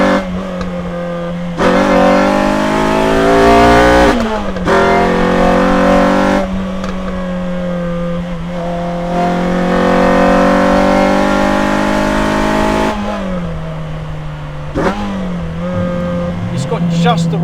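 A Renault Clio 172 Cup with an aftermarket exhaust revs loudly and close by, its engine note rising and dropping through several gear changes, with brief cracks and dips on the downshifts.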